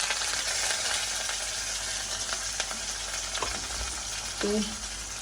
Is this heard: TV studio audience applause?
no